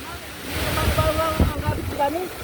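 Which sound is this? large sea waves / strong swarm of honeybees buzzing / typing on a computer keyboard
large sea waves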